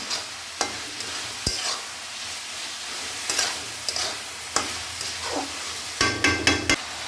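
Dried red chillies fry in hot oil in a pan, with a steady sizzle under scattered stirring clinks and scrapes, busier toward the end.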